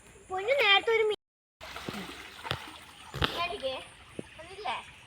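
Fish splash at the surface of a natural pond in Kasaragod, Kerala: a few brief, sharp water splashes and trickles heard close by, mixed with people talking, including a voice.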